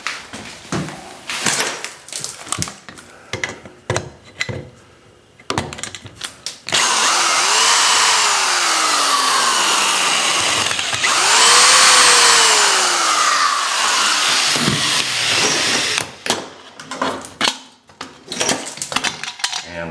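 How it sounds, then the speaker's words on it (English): A power drill backs out long three-inch screws holding a bathtub valve escutcheon plate, two sustained whirring runs with rising pitch between scattered metallic clinks and taps close by. "rather than use a screwdriver, I'm going to switch over to my drill, because these screws are generally about 3 inches long."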